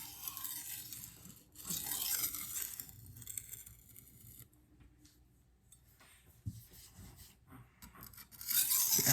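A VG-10 steel knife is ground on a 400 grit super vitrified diamond stone, giving quiet gritty rasping strokes in irregular bursts with short pauses between, close up.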